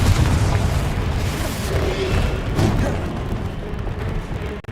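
A spell blast from the video game Hogwarts Legacy erupts as a loud, rumbling explosion with a heavy low boom that rolls on for several seconds before cutting off.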